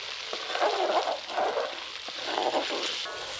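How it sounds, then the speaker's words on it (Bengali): Onion with ginger-garlic paste frying in oil for chicken biryani, a steady soft sizzle with faint stirring scrapes, fairly close and moderately loud with no talking. "আদা রসুন আর পেঁয়াজ হালকা করে ভেজে নিয়েছি।"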